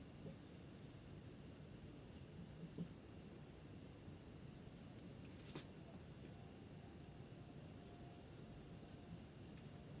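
Marker or chalk writing on a board during a physics lesson on mirrors, a steady soft scratching that runs throughout at low level with a few faint taps.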